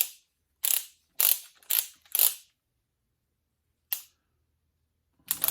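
Torque wrench clicking on cylinder head nuts with hardened washers on a Case 188D tractor: a run of four sharp ratcheting bursts, then a pause, one more click and a final burst, close and crisp against silence.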